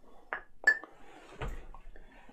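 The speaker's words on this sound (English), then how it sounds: "if we put the rock in a glass of water" A rock is set into a glass of water with a couple of sharp glassy clinks, followed by a duller knock and a soft watery settle, all close up and brief.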